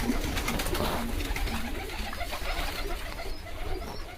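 Pigeons in a pigeon house coo softly and repeatedly, several birds overlapping in low, throaty calls over a steady background of rustling and murmur.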